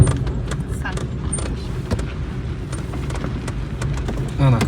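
A small Daewoo Matiz car rolls downhill on a rough, winding mountain road in Tajikistan, with a steady engine and road rumble filling the cabin, some rattling, and someone talking over it.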